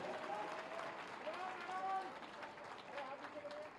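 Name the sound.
audience applause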